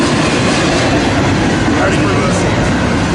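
Long freight train of empty cars rolling east past a rail yard, a loud, close, continuous rumble and rattle of wheels and wagons filling the whole stretch.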